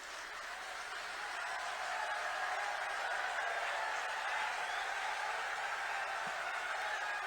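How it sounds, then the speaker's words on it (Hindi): Steady, dense applause from a large standing crowd at an outdoor political rally in Sirsa, Haryana, sustained at an even level throughout, with a faint murmur of voices mixed in. "खड़े होकर तालियां बजा के गृह मंत्री जी का स्वागत करें।"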